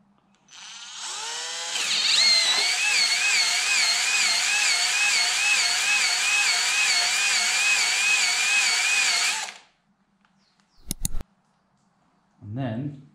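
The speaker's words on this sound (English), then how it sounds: "you want it to be going quite quickly, full speed of the drill" A power drill spins a Dingleberry hone inside a BMW engine cylinder, whirring steadily at full speed for about nine seconds, close and loud, then stops, followed by a sharp clunk and a brief voice.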